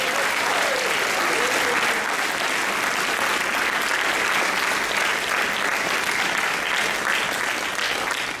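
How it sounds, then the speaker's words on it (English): A school audience at an inter-house debate final bursts into loud, dense applause that holds steady and full for the whole stretch, a close wash of many hands with faint crowd noise mixed in. "give a huge round of applause to Mr. Jeffrey"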